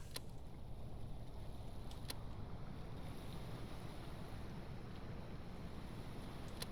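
A Damen 2111 tug reversing on azipod thrusters in the Stormworks game: a steady, dense low rumble of engines and churning water, with a few faint sharp clicks.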